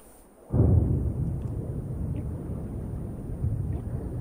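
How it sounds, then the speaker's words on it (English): Water in a video game rushes out and drains after a button press: a sudden loud gush kicks in and keeps churning with a low rumble, rising again briefly near the end, with no talking. "Press the button, drain the water."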